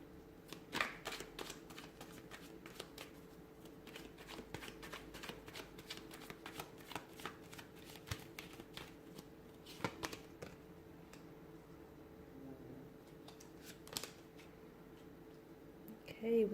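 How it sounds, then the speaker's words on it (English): Tarot cards are shuffled repeatedly, with brisk riffling bursts and soft flicks continuing for the whole stretch, close and fairly quiet, with no talking. "give the cards a shuffle"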